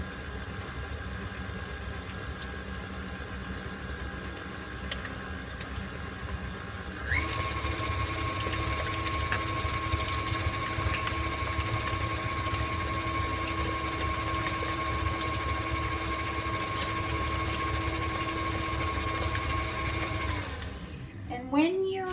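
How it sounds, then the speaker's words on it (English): An electric stand mixer beats cheesecake filling with eggs, a steady mid-level whir that grows louder and busier partway through and runs continuously, heard alone before a brief clatter at the end. "when you're doing any type of fillings, whatever, mixing anything up in these mixers, you need to scrape down the sides."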